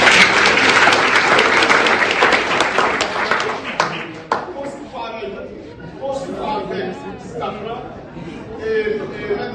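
An indoor audience claps and applauds loudly for several seconds, then the clapping thins out into scattered claps and crowd chatter.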